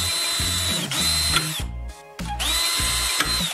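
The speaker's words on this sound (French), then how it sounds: "Prenez un petit morceau de profilé métallique pour cloison sèche et percez Y2 trous." A power drill bores through a small piece of metal drywall profile in two long, loud bursts. The motor whines steadily during each burst, with a short pause between them.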